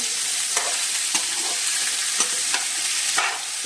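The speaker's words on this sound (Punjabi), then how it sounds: "ਸਭ ਤੋਂ ਪਹਿਲੇ ਅਸੀਂ ਆਲੂ ਪਾਣੇ ਇਹਨੂੰ ਅੱਛੀ ਤਰ੍ਹਾਂ ਮਿਕਸ ਕਰ ਲੈਣਾ ਗੈਸ ਬਿਲਕੁਲ ਸਿਮ ਤੇ ਰੱਖਣੀ ਹੈ" Potatoes sizzle gently in a pan on a low gas flame as they are stirred, a steady close frying hiss punctuated by regular soft scraping strokes, with no talk.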